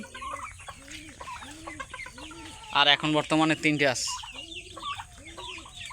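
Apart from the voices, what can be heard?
chicken clucking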